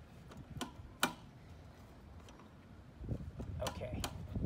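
The mechanical disc brake caliper adjuster on a Rad Power e-bike gives a few sharp clicks, faint and close, spaced irregularly over low handling noise.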